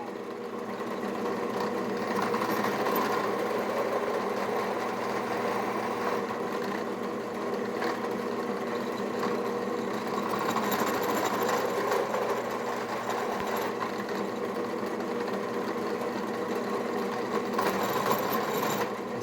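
A drill press taking light nibbling cuts to slot a piece of metal, giving a steady whirring machine hum with a faint rhythmic chatter, close and continuous, with no voices.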